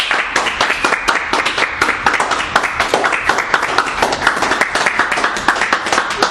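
A room of Toastmasters members claps for two Distinguished Toastmasters, a steady patter of many hands at close range holding even for several seconds.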